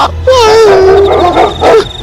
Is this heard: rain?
no